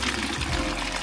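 Water rushing from a freshly bled plumbing line while an outdoor spigot is being installed, a steady splashing pour heard up close for about a second.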